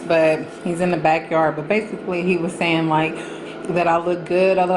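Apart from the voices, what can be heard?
No everyday noise stands out behind the speech.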